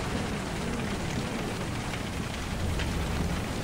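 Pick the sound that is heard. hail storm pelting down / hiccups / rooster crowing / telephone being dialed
hail storm pelting down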